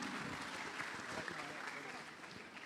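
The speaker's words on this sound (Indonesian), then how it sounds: "kita berikan tepuk tangan sekali lagi." An indoor audience at a political talk event claps together in a sustained, dense round of applause that holds steady before fading slightly, with no voices rising above it.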